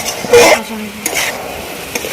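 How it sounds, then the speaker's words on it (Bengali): Onion, capsicum and spices for dhaba-style karai chicken are stirred in a hot pan, with a close scraping stroke and soft sizzling, then a few lighter utensil clinks. "এবার এটাকে ভালো করে নাড়িয়ে নিতে হবে যেন সবেতে মশলাগুলো পেঁয়াজ আর ক্যাপসিকামটা ভালো করে"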